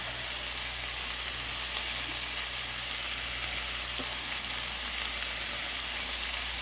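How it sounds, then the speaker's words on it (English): Okra flash frying in hot oil without batter, a steady, even sizzle with faint crackles throughout, close and alone. "Just a light tip little flash fry and some hot oil."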